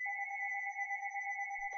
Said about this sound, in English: Oh no, the phone is ringing.